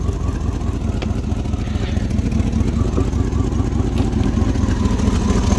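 A 1999 Dodge Durango SLT engine, just started after sitting abandoned for 14 years, idles steadily with a low, rumbling, slightly uneven putter, continuous and close, with no voices.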